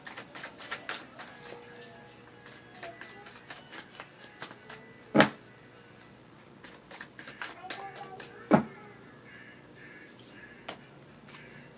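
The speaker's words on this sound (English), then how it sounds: "let me pull some more cards" Tarot cards shuffled by hand in a run of quick crisp riffles and slaps, with two sharper snaps standing out, close and fairly soft with no talk over them.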